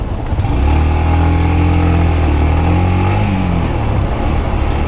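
A Yamaha YBR125 motorcycle engine revs and pulls away slowly from an intersection in Vladivostok, a loud, close, rising drone with clear harmonic pitch sweeps before easing off.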